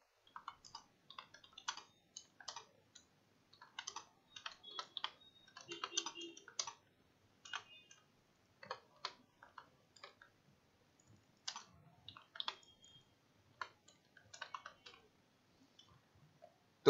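Computer keyboard typing while writing HTML text, soft clustered key clicks in irregular bursts with short pauses, fairly close and quiet, no talking.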